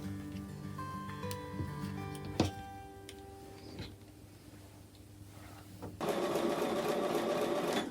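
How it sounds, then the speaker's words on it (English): Sewing machine stitching pieced quilt block units, a steady loud mechanical whir that starts abruptly partway through and runs continuously after a quieter stretch of room sounds and small clicks. "I'm going to take them back over to the sewing machine."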